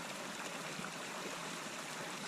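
Mountain creek near South Fork Lakes by Lone Pine, California, running steadily as a broad, even rush of flowing water, close and continuous with no voices.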